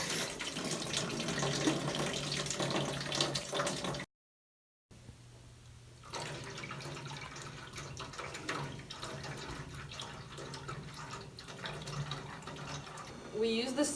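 Water runs turbulently out of a cup through a small straw hole in a steady splashing stream, with a brief silent break partway through and a person talking over it.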